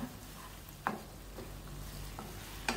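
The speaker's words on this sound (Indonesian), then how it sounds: "kita tumis dulu bumbu yang udah kita haluskan tadi yang udah ada ebinya" Ground spice paste with dried shrimp sautés in hot oil, giving a faint, steady sizzle punctuated by a few quick scrapes of stirring.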